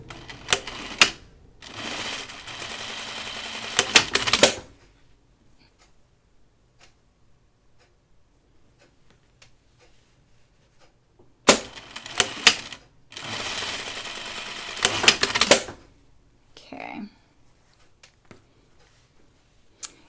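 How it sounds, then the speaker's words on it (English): A sewing machine stitches the shoulder seams of a caftan in two close, rapid bursts of several seconds each, separated by quiet stretches with faint clicks and handling sounds. "I'm just sewing the shoulders at 5/8 inch seam allowance"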